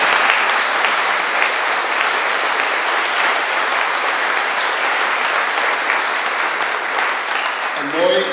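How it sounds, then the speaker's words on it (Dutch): A council chamber fills with sustained, loud applause during a special council meeting for a new mayor's swearing-in, a thick, even roar of clapping that barely varies, with a voice surfacing near the end. "En ik voel een applaus opkomen om de waardering te onderschrijven."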